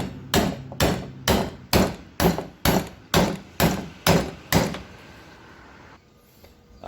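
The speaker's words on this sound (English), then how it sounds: "take a trusty hammer" A hammer taps a power steering rack part on a 2005 Dodge Ram 1500: about ten sharp, ringing metallic strikes in an even, steady rhythm, close and loud, then quiet.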